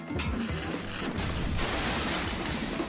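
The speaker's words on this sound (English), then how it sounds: "And I rear-ended another train." A train rear-ends another train in the Trainz railway simulator, a loud sustained grinding crash with rumbling metallic impacts that continue without letting up.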